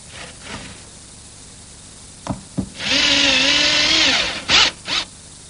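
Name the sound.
power drill driving a square-drive screw into wood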